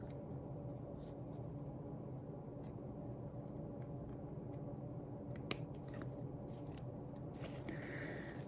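Scissors give one brief, faint snip through cotton wick, cut sideways while rebuilding an RPM RBA coil for a Smok Fetch Mini pod kit, over a quiet steady room hum.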